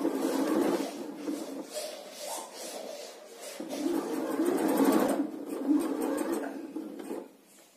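A domestic sewing machine stitches fabric for a braided headband, running in a steady whirring hum with short stops and restarts as the fabric is adjusted, close and fairly quiet.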